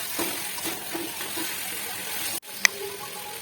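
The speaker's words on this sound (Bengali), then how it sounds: "তেল দিয়ে ভালো করে সবজির সাথে মেশে নিই" Vegetables tossed in oil in a kadai for a spicy crab masala curry give off a steady frying sizzle and hiss, with soft stirring scrapes, a brief cut, then a sharp clink of the utensil.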